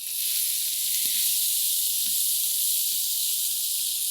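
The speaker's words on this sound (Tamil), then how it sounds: "இப்போ இந்த நேரத்தில் கொஞ்சம் ஆனியன் போட்டுக்கலாம்" Onions and cumin sizzle in hot oil in a pan for potato kurma, a loud, steady hiss that runs unbroken throughout.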